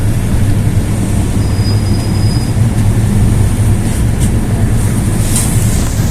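A light rail (LRT) train rumbles past loudly and steadily, with a brief high-pitched wheel squeal and rattling under the heavy low roar.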